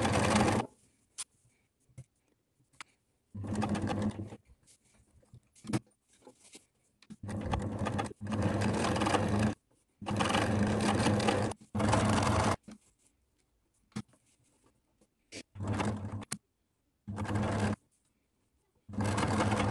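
A sewing machine stitches a slit opening in fabric, running in repeated bursts of steady mechanical whirring separated by short pauses, close and clear.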